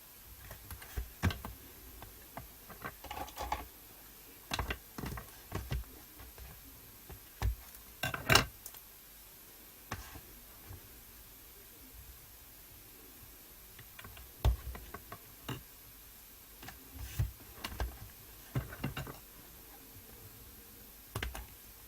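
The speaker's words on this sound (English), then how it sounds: "what I'm going to do is run some tape down each edge" Tape pulled and pressed down along paper edges while assembling a winter-themed mini album page, giving scattered crisp clicks and short crackly bursts close by in quiet surroundings.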